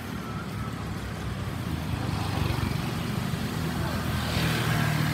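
A motorcycle roars past on a busy street in Antipolo, its engine loud and close amid steady traffic noise, with a voice talking faintly underneath.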